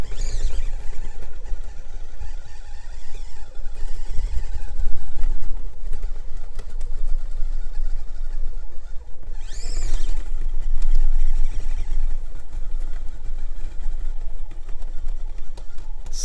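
An SCX24 RC crawler car fitted with X15 axles runs up a canyon, its small motor whining steadily and loudly with rising and falling pitch as it drives.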